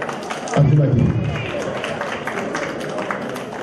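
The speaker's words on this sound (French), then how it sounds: "On applaudit très très fort." An audience applauds at an association's first official ceremony in Paris, with steady crowd clapping and hubbub filling the hall from start to finish, loudest in the first second.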